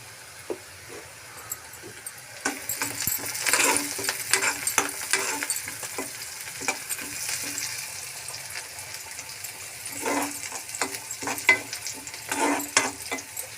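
Cashews and curry leaves fry and sizzle in oil in a pan for a chicken dish. A soft start gives way to busy stirring and scraping over a continuous crackling sizzle, close and fairly loud, with no talking.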